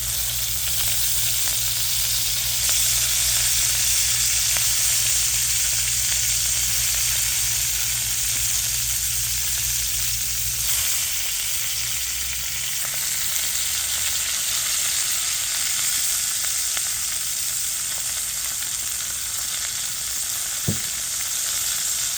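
Baby bok choy sautéing in hot olive oil in a pan, a loud, steady, close sizzle that holds evenly throughout with no talking.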